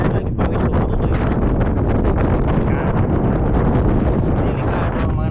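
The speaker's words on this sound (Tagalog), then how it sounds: "Ayan, malakas ang hangin." Strong wind buffets the microphone at Barcelona's port, a loud, continuous roaring rush with gusty fluctuations throughout.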